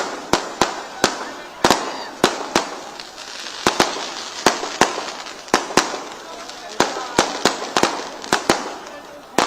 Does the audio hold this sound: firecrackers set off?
yes